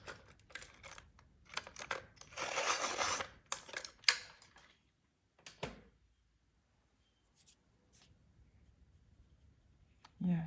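A processed red colouring pencil is sharpened in short grinding rasps that come in a cluster, fairly close and quiet, followed by a few faint scrapes and near silence.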